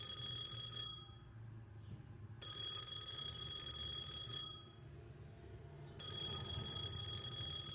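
A telephone rings in the video game Penelope Pendrick and the Art of Deceit, three bright electronic ring bursts of about one and a half seconds each, separated by short pauses, clear over a quiet background.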